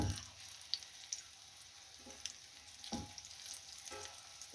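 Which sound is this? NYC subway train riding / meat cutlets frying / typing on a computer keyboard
meat cutlets frying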